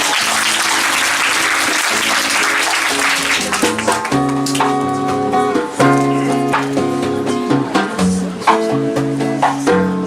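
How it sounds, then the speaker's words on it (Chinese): Applause from a live concert audience in a small Taipei venue: a loud burst of clapping that fades as sustained musical tones take over and ring on. "掌声。"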